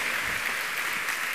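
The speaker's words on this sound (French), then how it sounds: "Les danseurs de l'Arc-en-Ciel, on les applaudit très fort." Brief, dense applause from an audience for the l'Arc-en-Ciel dancers after a fire dance at a gaming invitational's opening ceremony, a steady wash of clapping with no speech.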